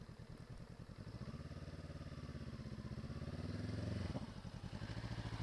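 A motorcycle pulling away on a tarmac test-centre practice area during a Direct Access motorcycle training lesson, its engine throbbing steadily and revving up before easing off, close and alone.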